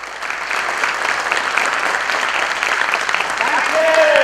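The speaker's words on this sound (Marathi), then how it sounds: "ह्या सगळ्यांसाठी एकदा जोरदार टाळ्या" Audience applause fills the hall, a dense steady clatter of many hands that holds at full strength throughout, with a faint whistle-like tone near the end.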